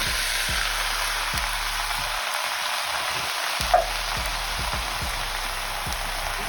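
Chickpeas and tinned chopped tomatoes go into a hot pan of potatoes for a curry, giving a steady close sizzle with a brief wet plop partway through.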